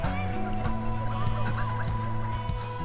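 Loud, continuous quacking and clucking from several ducks close by on a snowy waterfront, overlapping with a steady hum beneath.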